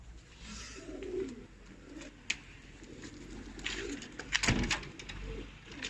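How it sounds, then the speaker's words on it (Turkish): Pigeons in a loft in Adana, including homing and tumbler breeds, coo softly and repeatedly, with faint flutters and shuffles in the background. "posta güvercinleri taklacılar, elvan, Bosna güvercini gene var arkadaşlar"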